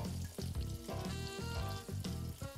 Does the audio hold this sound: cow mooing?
no